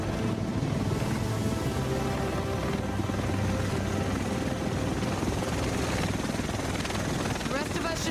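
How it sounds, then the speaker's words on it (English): A helicopter arrives over Manhattan in Tom Clancy's The Division, its dense rotor thrum steady and loud throughout, with faint voices beneath. "The rest of us should be in this chopper."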